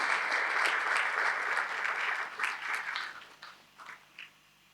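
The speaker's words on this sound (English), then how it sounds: "can we give our academics a big round of applause?" Audience at a humanities faculty gala dinner applauding, a sustained dense clapping that holds steady for a few seconds, then thins into scattered claps and fades out.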